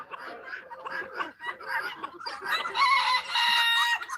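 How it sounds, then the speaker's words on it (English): A rooster in a backyard poultry flock crows loudly and close by, a strained, wavering call that follows clucking and other fowl noises. "That's a conflicted rooster right there"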